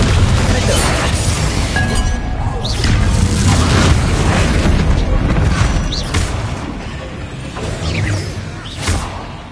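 Booming blasts and shattering crashes from the Confringo fire spell in Hogwarts Legacy, several loud bursts over dense battle noise with whooshes and glassy clinks throughout.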